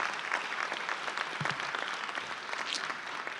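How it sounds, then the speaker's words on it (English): Students applaud at a new student convocation, a sustained crowd of many hands clapping in a large hall, steady and unbroken, with no speech over it. "So give yourselves another round of applause and thank you."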